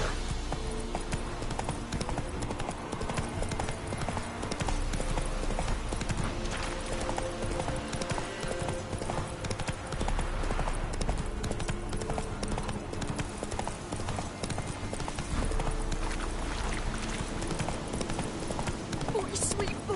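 Horse galloping in The Witcher 3: constant rhythmic clip-clop of hooves throughout, mixed with game music and ambience, while someone speaks at times over it.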